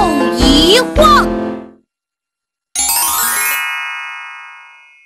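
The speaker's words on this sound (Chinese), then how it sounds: "铃铛一摇又一晃" A small bell on a puppy's collar sounds as one bright, ringing chime that slowly fades out, after a short stretch of a singing voice and a moment of silence.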